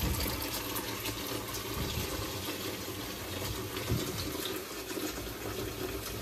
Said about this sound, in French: Là, je vais mettre de l'eau tiède.